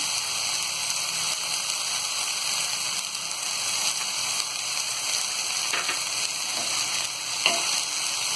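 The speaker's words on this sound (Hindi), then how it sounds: "भाजी को अच्छी तरह मिक्स कर देंगे।" Chickpea bhaji frying in a pan as it is stirred and mixed: a dense, continuous sizzle dominates throughout, with a few faint scrapes and taps of the spoon, close and steady.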